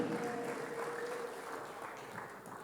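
A church congregation claps together during a sermon, giving a short, faint, far-off patter of applause with no speech over it.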